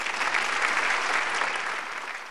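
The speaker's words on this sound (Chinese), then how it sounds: "请大家以热烈的掌声欢迎校长。" An audience gathered for a Buddhist talk gives warm applause to welcome the principal, with thick, sustained clapping from many people that holds steady and then tapers off slightly toward the end.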